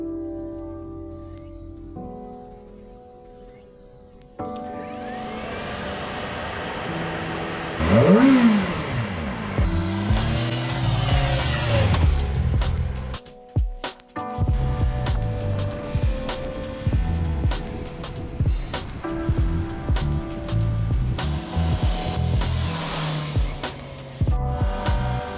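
A Kawasaki ZX25R motorcycle rides through Japanese residential streets, its high-pitched four-cylinder engine revving up and shifting through gears close to the mic, with a steady drone and wind between throttle changes.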